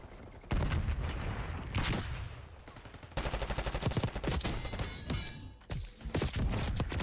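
Rapid bursts of C9 submachine gun fire in the multiplayer shooter Black Ops 6, with loud, dense automatic volleys broken by short pauses and a brief lull midway.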